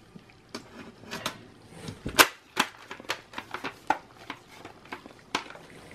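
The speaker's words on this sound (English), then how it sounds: "Now we're gonna go ahead and put the cover at the back." Plastic back cover of a Dell Latitude E6320 laptop being fitted into place, a run of sharp snapping clicks and taps at uneven intervals, close and dry, with no talking.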